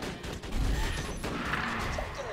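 Sniper gunfire in the video game Borderlands 2, a cluster of distant cracks and thuds layered in busy game noise, not especially loud, with a few sharper hits standing out.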